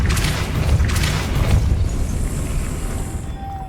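Depulso spell cast in the Hogwarts Legacy video game, a loud booming magical blast with a rushing burst that fades into a lingering hiss and a thin tone, no talk over it.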